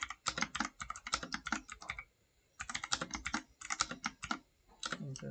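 Fast bursts of clicking keystrokes on a computer keyboard while code is entered, close and crisp, with a short pause mid-way and no talking.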